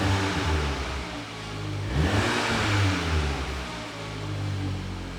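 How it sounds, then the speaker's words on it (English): Cold VW Golf R Mk7.5 idling with a throaty rumble, then swelling into a brief, gentle rev in race mode before settling back, fairly loud and close with no talking. "We'll pop the car into race. We'll not rev it too hard because it's obviously cold."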